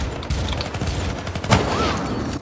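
Gunfire in the video game Syndicate, a co-op mission set in Colorado: a dense stream of shots and bursts runs throughout, with one sharp louder crack midway over game noise.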